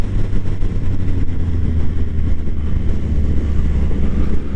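A 2016 Triumph Speed Triple S motorcycle being ridden, with a loud steady engine drone and heavy wind buffeting at the microphone, held constant through a turn.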